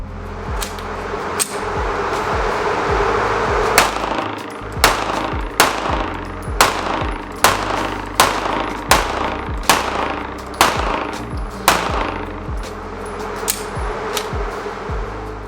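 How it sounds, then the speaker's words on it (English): About ten rapid gunshots fired downrange on an outdoor range, each a loud sharp crack with a short decay, spaced roughly half a second to a second apart and close to the listener. "So I sent about 10 shots downrange pretty quickly too."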